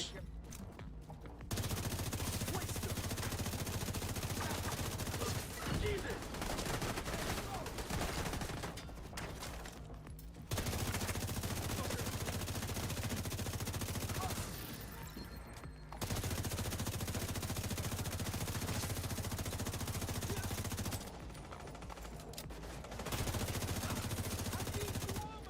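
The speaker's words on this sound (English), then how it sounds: "Let's just make sure it goes not with the machine gunner shooting us." Machine gun fire in The Division 2 comes in long sustained bursts of a few seconds each, broken by short pauses, fairly quiet in the mix, with talk now and then.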